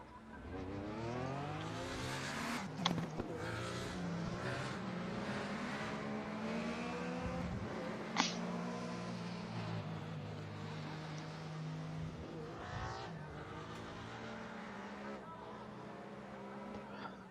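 A 1995 Mercedes AMG DTM race car of about 490 horsepower in the RaceRoom sim, its engine whining and revving up and down through gear changes for an extended run, fairly faint, with brief clunks.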